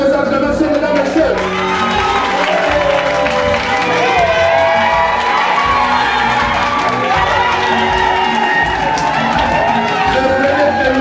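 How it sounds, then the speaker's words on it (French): An audience cheers and acclaims loudly, with whoops, shouting and applause forming a dense, continuous crowd roar that stays strong from start to finish. "Sous vos acclamations, mesdames et messieurs."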